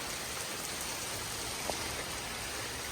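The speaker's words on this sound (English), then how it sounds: "You can see the raindrops going a direction." Rain driven by strong, damaging winds during a Labor Day windstorm at a house, a steady dense wash of falling water and gusting air, close and continuous with no talk.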